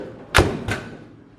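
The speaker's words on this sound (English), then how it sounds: "This door doesn't catch anymore." A Fargo pickup truck door with a broken latch is swung shut twice, a sharp slam followed by a softer second thud that fails to catch.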